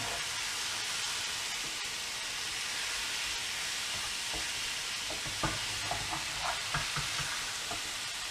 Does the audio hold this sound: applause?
no